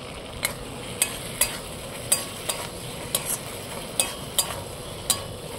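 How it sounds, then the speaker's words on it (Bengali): Cashew paste and Kashmiri chili powder frying with onions in a pan outdoors, a steady soft sizzle under repeated sharp clinks and scrapes of a spoon stirring, roughly one stroke every half second, close and moderately loud. "কাজু বাদাম বাটাটা দিয়ে একটু ভালো করে ভেজে নিয়েছি"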